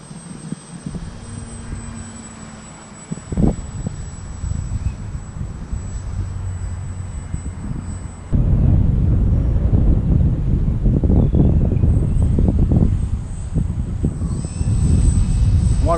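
An E-Flite Ultimate 2 RC airplane flies in high wind, its motor whine fading in and out behind heavy, close wind buffeting on the microphone, which grows louder partway through.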